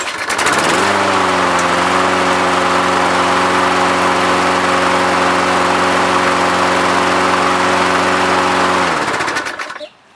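A Toro lawn mower engine runs steadily on a test run after repair, a loud, even drone holding the same pitch from start to finish before it cuts off and winds down at the end.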